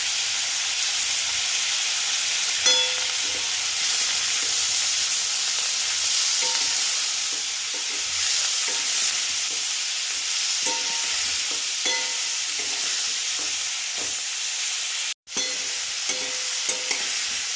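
Garlic sizzles as it hits a hot pan of frying onion and capsicum for Bengali-style chilli prawns, a steady close hiss with faint stirring clinks and one sharp break, no voices.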